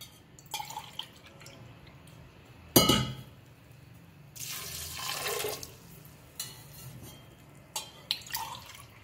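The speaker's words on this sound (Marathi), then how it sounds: "पाणी टाकूया 3 ग्लास." Water is poured by the glassful into a pressure cooker holding kidney beans for rajma masala. It comes as a few distinct splashing gushes over a faint kitchen background with light clinks, and no talking.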